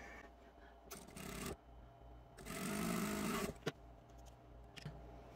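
A sewing machine stitches a quilt triangle in short close bursts, a fast steady whirr that starts and stops twice with a brief pause between, no talking.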